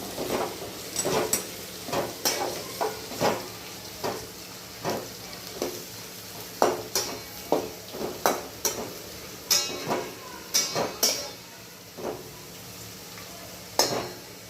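Potatoes fry with cumin and chillies for sabudana khichdi while a spoon scrapes and stirs the pan in steady, uneven strokes over a continuous soft sizzle, heard up close.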